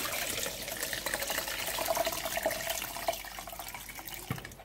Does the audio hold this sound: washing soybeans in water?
yes